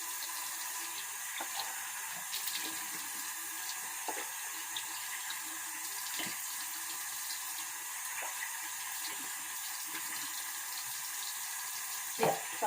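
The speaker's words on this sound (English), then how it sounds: "I'm going to wash this off now." Tap water running steadily into a sink while something is washed off, a faint even hiss with occasional splashes and clinks, no talk.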